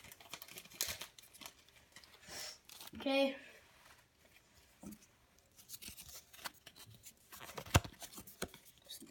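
Pokémon TCG BREAK booster pack being opened by hand, with crinkling foil, a sharp tearing rip and scattered card-handling rustles, close up; a person speaks briefly.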